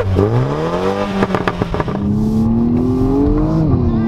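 A loud 2020 BMW 135i engine climbs in pitch, drops briefly at each gear change from first through fourth, then pulls again; crackles and pops cut in during the shifts.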